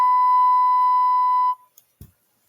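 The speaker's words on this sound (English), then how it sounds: "Thank you for that beep" A censorship bleep from a wrestling talk show, a single loud steady tone held for about a second and a half, then cut off abruptly, followed by a couple of soft clicks.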